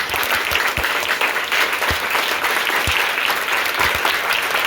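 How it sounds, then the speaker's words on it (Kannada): An audience of schoolchildren claps loudly and steadily at a school quiz held for Vivekananda Jayanti, a dense, continuous roll of hand claps with a few heavier thumps, no voices heard. "ಎಲ್ರಿಗೂ ಜೋರಾಗಿ ಚಪ್ಪಾಳೆ ಹೊಡೆದು"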